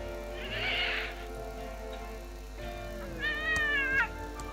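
Cat meowing on a television show inside the Thimbleweed Park adventure game, two drawn-out meows, one near the start and a longer wavering one toward the end, over a low steady background hum.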